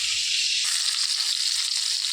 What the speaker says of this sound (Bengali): মাছটা সবসময় ধীরে ধীরেই ভাজতে হবে, লো ফ্লেমে আর কি ভাজতে হবে